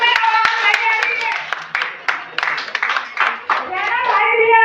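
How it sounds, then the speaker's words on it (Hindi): Hand clapping at a Teachers Day honouring ceremony, loud close claps in bursts, mixed with children's voices and chatter, and a strong tonal hum running through. "बधाई, जोरदार तालियों में आवाज लगेगी।"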